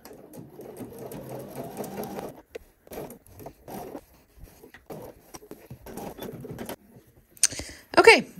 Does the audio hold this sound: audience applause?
no